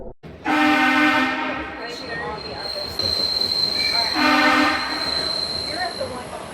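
A subway train rumbles through Franklin Square station without stopping, with high metallic wheel squeals and a sustained tone rising and fading over a steady rolling roar.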